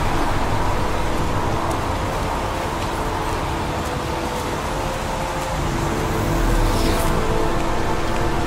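Steady rain in the video game Heavy Rain, a dense, constant hiss that fills the whole stretch at an even, fairly loud level with no voices over it.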